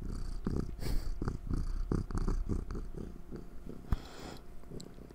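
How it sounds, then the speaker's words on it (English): A cat purrs close to the microphone in a steady, rhythmic rumble of repeated pulses, soft and intimate, with a small sharp click partway through and no talking. "Can you purr into the mic for mom?"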